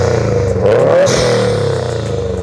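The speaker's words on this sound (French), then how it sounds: "je te propose qu'on démarre la voiture et qu'on voit ce que ça donne quand même niveau sonorité" A Subaru WRX STI engine fires up and revs, a loud, deep exhaust rumble with a quick rise in pitch about a second in, then settles into a muffled, throaty idle.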